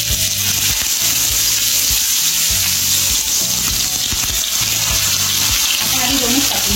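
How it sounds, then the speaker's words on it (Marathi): Bangda (mackerel) fish frying in hot oil, a steady loud sizzle and hiss that runs without pause, with soft clinks and scraping from the pan underneath. "आता आपण हे तळून घेऊया। आता आपण आपले मासे टाकून घेऊ।"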